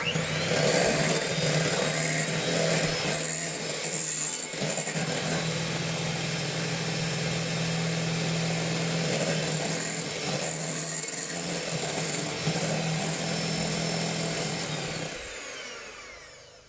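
Handheld electric beaters mix flax seed bread batter in a bowl with a continuous high motor whine and faint scraping that runs steadily for about fifteen seconds, then winds down.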